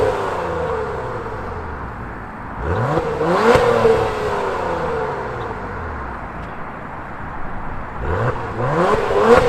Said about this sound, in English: let's get an exhaust clip and then take the TLX Type S for a spin